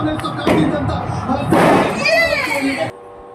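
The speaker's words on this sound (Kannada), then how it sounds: "ನಾವು ಎಲ್ಲರೂ ಪಟಾಕಿ ಹೊಡಿತಿದ್ರಲ್ಲ" Loud pops and bursts of firecrackers set off to celebrate the RCB cricket championship win, mixed with shouting and excited voices nearby, ending abruptly.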